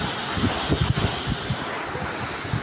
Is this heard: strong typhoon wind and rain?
yes